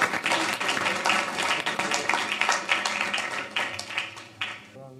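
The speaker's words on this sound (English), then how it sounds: "Give them a round of applause." Audience applause at a city council meeting, dense steady clapping from a roomful of people filling the whole stretch before tapering off at the end, with voices mixed in.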